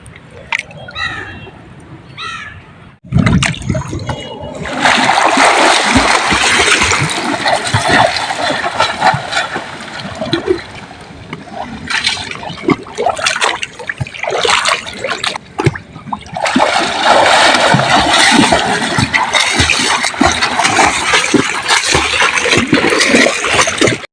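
Water splashing loudly and continuously as someone swims in a resort pool, churning and sloshing close by in long sustained bursts with a short quieter stretch near the start.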